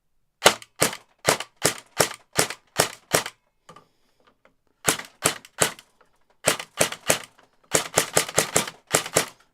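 An airsoft gun firing through a loaded magazine on a chronograph: sharp snapping shots in spaced single bursts, about two dozen in all, loud and close, with a short pause midway and no talking.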